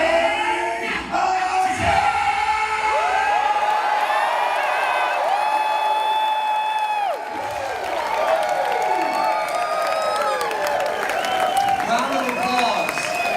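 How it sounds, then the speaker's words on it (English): A convention crowd roars with sustained applause, cheering and whoops, loud and dense throughout, with shouting voices mixed into the din. "Round of applause for Vegeta."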